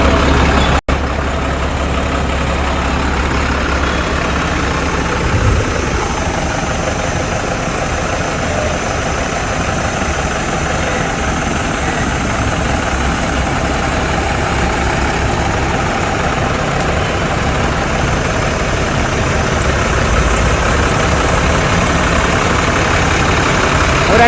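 A four-wheel-drive vehicle's engine runs continuously in a low, steady idle-like rumble, with no driver aboard, close and unchanging for over twenty seconds apart from a brief click near the start.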